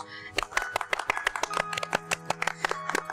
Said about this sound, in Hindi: आबद बेटी, तुम भी बजा लो तालियां।